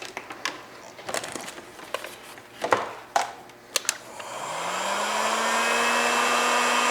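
Heat gun used on heat shrink tubing over wires during a Jeep Grand Cherokee WK2 pod light install: a few handling clicks and taps first, then the gun switches on and spools up into a steady, loud blowing hiss.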